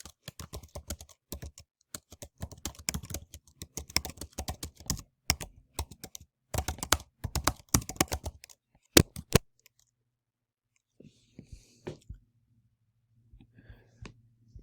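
Fast, steady typing on a computer keyboard for about nine seconds, a dense run of close, crisp keystrokes, then quiet with a faint hum and a few soft clicks.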